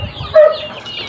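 A White Hatch rooster gives a short, loud crow, a single brief burst close by with faint background noise around it.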